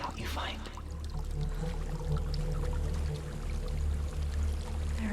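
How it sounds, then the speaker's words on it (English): Steady rushing water from a waterfall in Hellblade: Senua's Sacrifice, a continuous broadband wash beneath a low droning backdrop, constant in level throughout. "There's a waterfall."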